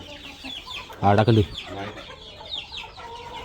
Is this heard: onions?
no